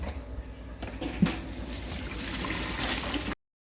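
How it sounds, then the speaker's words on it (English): Cooked spaghetti water poured off and draining, a steady close splashing gush with a brief knock near the start, running alone for about three seconds before cutting off. "Because I'm gonna drain my spaghetti."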